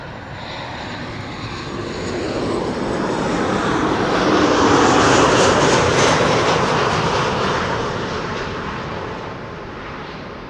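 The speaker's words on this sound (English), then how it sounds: "Another Transavia 737 having arrived here." A Transavia Boeing 737 arriving at Amsterdam Schiphol Airport, its broad engine roar swelling steadily to a loud peak as it passes, then easing away.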